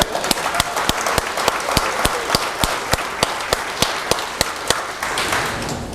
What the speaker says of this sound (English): Could we give a louder round of applause?